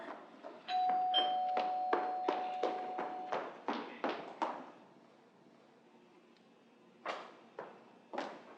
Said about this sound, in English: Oh, the doorbell